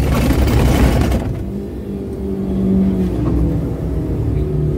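A car engine revs hard while the vehicle pushes through floodwater on a Jaipur street during heavy first rain, a loud close low rumble that surges and holds steady with a burst of splashing noise at the start.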